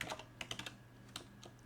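Computer keyboard typing while coding HTML, a quick cluster of close, crisp keystrokes followed by a few more scattered taps, with no voice.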